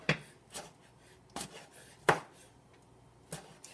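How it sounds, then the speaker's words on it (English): Sharp knife chopping tomatoes on a board for vegan bruschetta, a handful of distinct knocking cuts spaced unevenly and heard up close with no talk. "Helps if you have a nice sharp knife."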